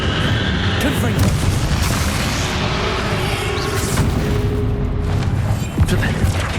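Repeated Confringo fire spells blasting in a Hogwarts Legacy final battle, a dense run of booming explosions and crackling impacts layered over rumbling game action and music, with no clean gaps between bursts.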